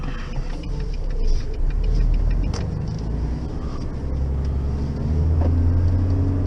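A truck hauling a drawbar trailer loaded with straw rumbles steadily along the road, its engine a low continuous drone heard from inside the cab, with faint rattles and creaks over it.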